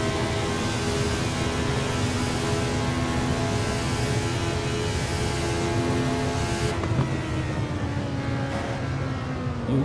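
A Lotus 72D Formula 1 car screams around Monza in Assetto Corsa, its engine droning steadily at high revs with a whine that holds near and loud throughout, shifting pitch slightly near the end.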